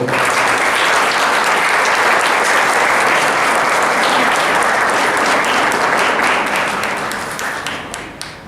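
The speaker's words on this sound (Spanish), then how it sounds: "Recibámosle con un fuerte aplauso, por favor." Loud, steady applause from a large crowd welcoming a speaker at a congress opening ceremony fills the clip, dense and continuous before tapering off slightly near the end.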